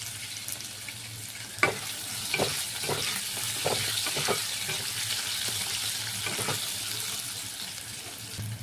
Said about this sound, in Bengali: আলুটা ভাজা হয়ে গেছে, তুলে দিচ্ছি।